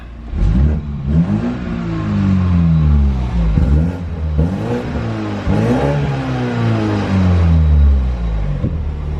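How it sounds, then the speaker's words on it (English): A four-cylinder Toyota Supra engine is revved repeatedly, rising and falling loudly and close up, each rev climbing and then dropping back to a rumbling idle. "For a 4-cylinder, not a bad sounding 4-cylinder."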